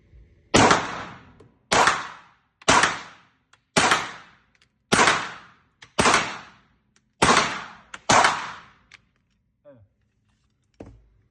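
Chrome-plated Sar 9 pistol firing eight loud, sharp gunshots at roughly one-second intervals, each with a short decaying echo, followed by faint clicks and handling noise.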